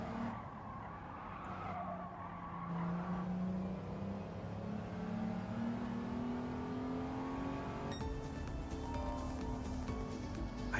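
Audi TT Quattro all-wheel-drive car in Gran Turismo 7, its engine drone rising steadily in pitch under acceleration, with tyre skid noise and a sharper burst of mechanical noise near the end, moderately loud and continuous.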